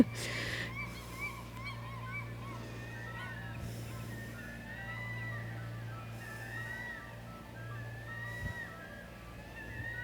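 Gull-like calls ring out repeatedly in the background during an outdoor yoga class, squawking at intervals over a steady low hum.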